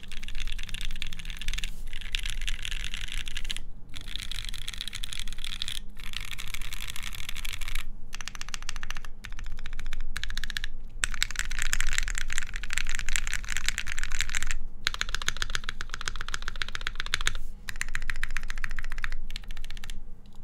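Typing on a Salvation keyboard built with a Trilobite wooden plate and CRP keycaps produces a steady, fast patter of soft, muted keystrokes. The clacks run continuously with a few short pauses, heard close over low background noise and a faint hum.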